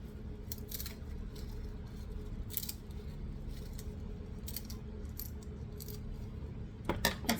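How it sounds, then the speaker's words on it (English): Scissors snip through kale leaves for a beef stew with parsnips and mushrooms, a few soft, separate cuts spaced seconds apart over a quiet kitchen background, with a quick cluster of snips at the end. "we could take a pair of scissors"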